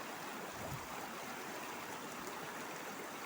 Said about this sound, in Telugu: ఎట్లా వస్తున్నాయి నీళ్ళు చూడండి.